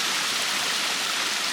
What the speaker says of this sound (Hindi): देखिए झरना।